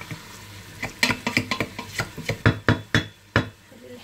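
Meat and spices stirred in a tajine pot for a Moroccan turnip and chickpea tajine, a run of close, sharp scraping and clacking strokes in uneven rhythm over a faint steady sizzle.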